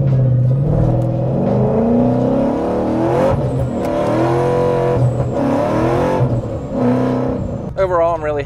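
A car engine revs hard while the tires spin on a cold road, producing a loud sustained whine that rises and falls in pitch, close and continuous.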